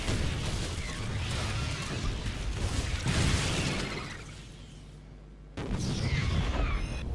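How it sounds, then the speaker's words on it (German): Grenade explosions in the StarCraft II video game, a dense roar of booming blasts that swells, fades, then bursts again sharply near the end, with no voices present. "Und jetzt schaut euch mal an, was diese Granaten anrichten."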